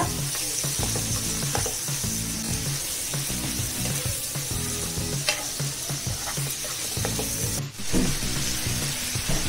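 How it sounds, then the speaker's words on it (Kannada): Prawns for spicy butter garlic prawns frying in a hot pan: a loud, steady sizzle with repeated stirring scrapes throughout, no voices. "ಇದು ಚೆನ್ನಾಗಿ ಫ್ರೈ ಮಾಡ್ಕೋಬೇಕು 1 ನಿಮಿಷ"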